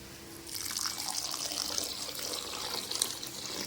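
Water is poured steadily into a pan of egg curry masala, a continuous soft splashing, close and fairly quiet, lasting a few seconds with no voices.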